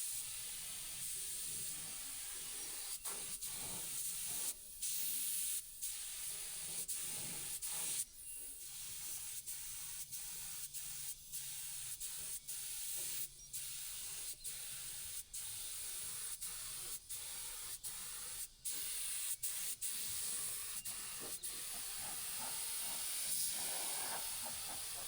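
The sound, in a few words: spraying the underside of a lowboy trailer deck insert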